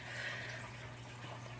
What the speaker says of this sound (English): I'm just going to pour the Guinness in